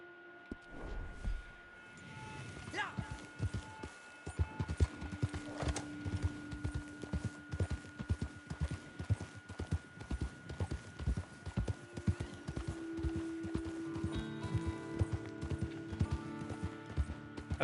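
A horse gallops in Red Dead Online: rapid, rhythmic hoofbeats run continuously over a steady tonal background hum, with a brief whinny-like sound near the start.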